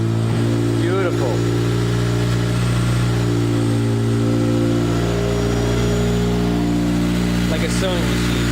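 Acura RSX with a K20A2 engine running smoothly and steadily after a valve adjustment, a close, even hum with faint chatter of voices nearby.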